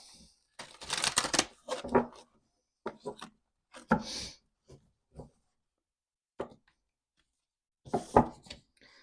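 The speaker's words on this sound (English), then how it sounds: "Just going to give these a good shuffle." Tarot cards are shuffled in several bursts of riffling and slapping, close up, separated by short quiet gaps, with a few soft taps between.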